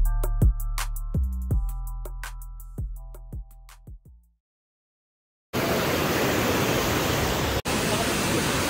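The roar of Lingmala waterfall near Mahabaleshwar: a dense, loud, steady rush of falling water fills the last few seconds, after a run of plucked musical tones and a brief silence.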